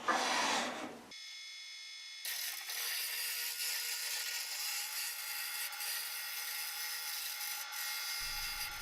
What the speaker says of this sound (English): And so I'm going to start turning.